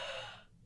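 A single person's yawn, a breathy drawn-out exhale that fades over under a second, close and alone.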